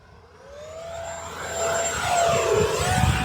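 A radio-controlled BAE Hawk model jet with a 50mm electric ducted fan makes a flying pass, its steady whine rising and growing louder as it approaches, with a faint shifting tone at the end.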